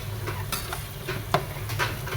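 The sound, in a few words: potatoes frying with spices in a pan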